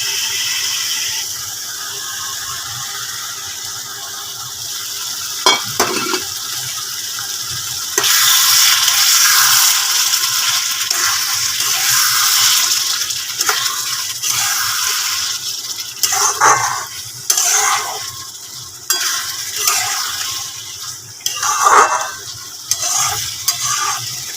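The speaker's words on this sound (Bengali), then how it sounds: "একে একে এবারে আলু ডিম এর মধ্যে দিয়ে দেব দিয়ে কিন্তু সুন্দরভাবে কষিয়ে নেব" Potatoes and eggs being sautéed in a pan for a curry, loud continuous sizzle broken by repeated spoon scrapes and stirring knocks, close and with no talking.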